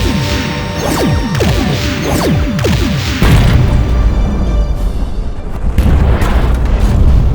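A BFG superweapon fires at a planet in a strategy video game, loud booming blasts and crashing impacts with falling sweeps, then a sustained heavy rumble, with no talk.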